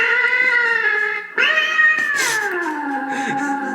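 A cat meows loudly and close, drawn-out wailing calls with a sharp rise midway, then a long descending caterwaul, with no talk.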